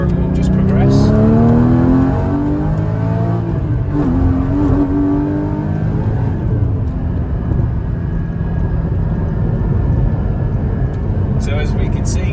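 A Porsche GT4 Clubsport fitted with a low-ratio crown wheel and pinion revs up through the gears, its engine note rising loud and close then dropping as it shifts into second, with someone talking over it throughout.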